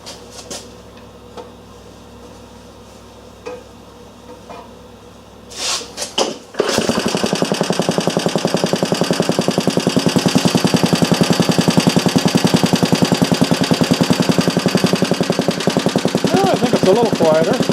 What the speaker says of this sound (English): And let's see if the old engine will cooperate again.